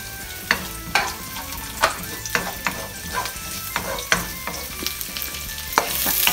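Garlic and ginger sautéing in a pan for chicken with broccoli, a close steady sizzle punctuated by frequent sharp taps and scrapes of a spatula stirring against the pan, with no voices.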